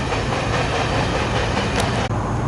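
A SEPTA train at Woodbourne Station on the old Reading line, a loud continuous broadband rumble of rolling cars close by, with a brief squeal and a short drop near the end.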